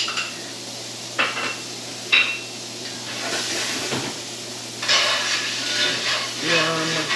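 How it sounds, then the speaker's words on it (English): Shallots sautéing in butter in a pan, a soft sizzle with intermittent clinks and scrapes of utensils against cookware, fairly quiet and close, with brief speech. "we're sauteing the shallots"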